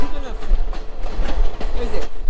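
A train running through tea gardens in Sri Lanka, heard from on board as a loud rumbling rattle with rhythmic clacking of wheels, over a voice talking.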